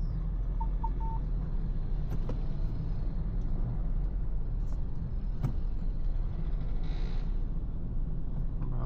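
Slow morning road traffic heard from inside a Ford Everest Titanium 4x4, with a continuous low engine and road rumble, a few short clicks and knocks, and a brief hiss near the end.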